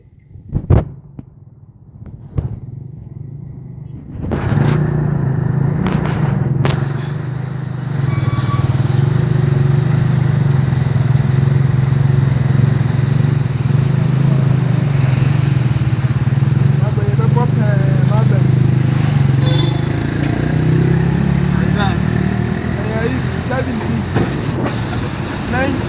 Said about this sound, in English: This is Kanoso Sunyani Road traffic.